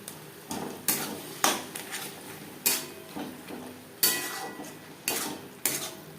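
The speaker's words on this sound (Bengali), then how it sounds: "মশলার সাথে চিকেন বেশ ভালো করে মিক্স করে দেবো" A spoon clinks and scrapes against a pan in sharp, irregular strikes as chicken is stirred into fried spices. A soft sizzle stays underneath the whole time, and no one speaks.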